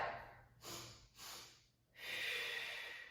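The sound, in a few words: sniffing twice on an inhale during Pilates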